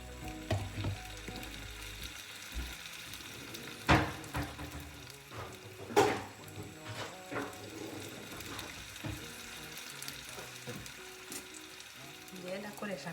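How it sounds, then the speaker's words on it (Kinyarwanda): Potatoes and onion frying in hot oil, a steady close sizzle with occasional stirring scrapes and clatters, including a couple of louder bumps. "amavuta yacu ngubu ari hafi gushya adushyiramo ibirayi noneho tumara gushyiramo ibirayi dushyiramo igitunguru"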